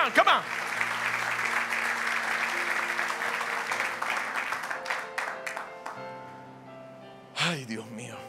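Church congregation applauding at a Spanish-language Ekklesia service, a dense steady clapping wash that tapers off midway as sustained music tones carry on, with a brief swell near the end.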